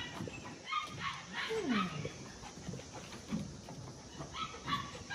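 A doodle puppy at a kennel during temperament testing gives a few faint whimpers and short yips, including one rising-and-falling whine, over a steady background hum.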